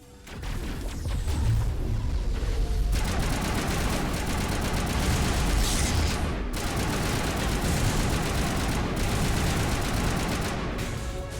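Loud sustained gunfire erupts in a Mass Effect firefight in a research lab on Noveria, rapid automatic bursts and heavy impacts rattling continuously after a quieter opening.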